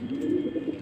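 Pigeons cooing indoors in a loft or room where the birds are kept, a steady low rolling coo that swells and repeats throughout, fairly close and with no talking.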